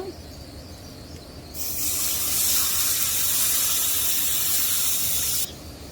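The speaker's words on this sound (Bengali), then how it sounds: "পেঁয়াজটা ভাজা হয়ে গেছে এখন মশলা কষানোর জন্য একটু পানি দিয়ে দিব" Water poured into a pan of frying onions and spices while cooking fish bhuna, a bright sizzling hiss that surges in after a quieter stretch, holds steady for about four seconds, then drops back.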